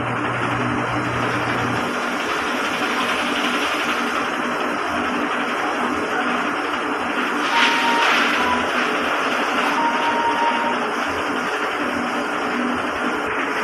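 A DTF printer runs a head cleaning cycle: a steady mechanical whir and hum throughout, with a couple of faint electronic beeps midway.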